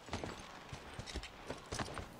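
Horse hooves clip-clop in the video game The Last of Us, a brisk, close run of repeated thudding steps in an uneven rhythm throughout.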